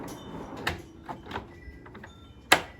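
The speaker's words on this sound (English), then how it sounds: "Close the drawers, push the little doohickeys down," Drifta drawers in a Toyota FJ sliding shut, with a few soft knocks and rustles before one sharp, close latching clack near the end.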